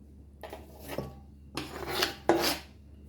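Hands rubbing seasoning, cut garlic and clove into Jamaican curry turkey necks: close, rasping rubs in three bursts, gentle and fairly quiet.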